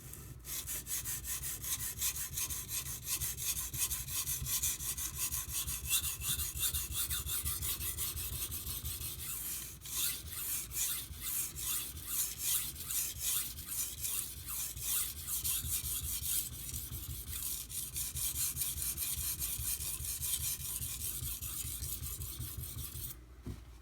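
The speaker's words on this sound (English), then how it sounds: "all I'm going to do here is sharpen the knife. So I'm going to put about a 20-degree angle on it." A Karaku Aogami Bunka kitchen knife is drawn over a whetstone at roughly a 20-degree angle, giving steady repeated rasping strokes at close range with no talk.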